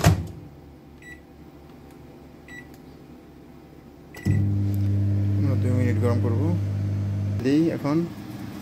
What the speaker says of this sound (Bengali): দুধটা মাইক্রোওভেনে গরম করব।